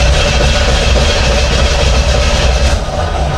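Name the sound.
project car engine cranking without starting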